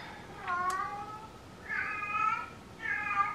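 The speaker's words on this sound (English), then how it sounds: "We've got a kitty with a mouse." A cat with a mouse meows three times in drawn-out, clear calls separated by short pauses, close by and alone against a quiet background.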